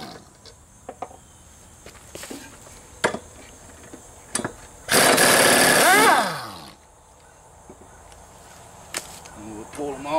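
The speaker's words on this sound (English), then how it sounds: "you're probably going to have an impact to get them off" An impact wrench with a 5/8 socket rattles off the blade bolts on a Craftsman YS4500 mower deck in one loud, dense burst of about two seconds that winds down in pitch. Scattered clicks and knocks come before and after.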